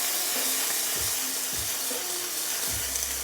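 Shrimp sizzling in a hot pan, a steady bright hiss of frying with a few soft knocks underneath, continuous and close.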